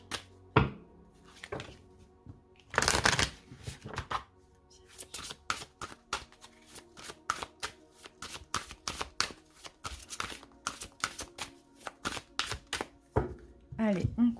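Lenormand fortune-telling cards being shuffled by hand, a long run of quick riffling slaps and flicks in irregular bursts, close and fairly soft, with a voice speaking French intermittently.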